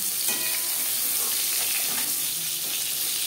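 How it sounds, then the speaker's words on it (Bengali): Pointed gourd (potol) pieces fry lightly in hot oil for a Bengali tel potol dish, a steady close sizzling hiss that continues unbroken throughout, with no talking. "আমি এখানে একটু হালকা করে ভেজে নেব।"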